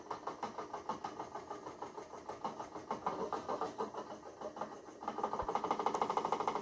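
A Spin E-Cube electric spinning wheel whirring steadily at slow speed, with a soft rhythmic mechanical pulsing that grows slightly louder and busier toward the end, no voices.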